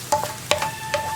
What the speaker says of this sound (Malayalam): ഒരു 2-3 മിനിറ്റ് സവോള ഒന്ന് ഇളക്കി കൊടുക്കുക, സവോള ട്രാൻസ്പെറൻ്റ് ആയി വരാനായിട്ട്.